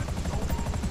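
A Buzzard helicopter in GTA throbs with rapid, steady rotor thumps and a loud, close engine whine, heard on its own in a brief burst.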